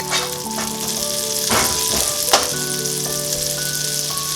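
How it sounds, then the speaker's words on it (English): Butter melts and sizzles steadily in a pot with rendered beef fat, a loud continuous frying hiss with a few scraping strokes across the bottom, no voices. "While the butter is melting, scrape up all the wonderful little flavor crystals off the bottom of the pan"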